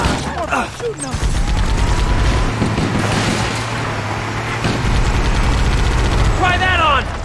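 Sustained gunfire in the first-person shooter Halo: Combat Evolved, loud rapid bursts over a low engine-like rumble, with brief voice calls at the start and end.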